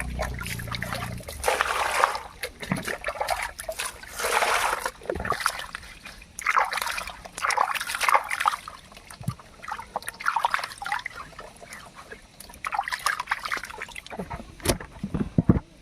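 Water pours and splashes in uneven bursts with trickling between, fairly close, alongside a few brief noises.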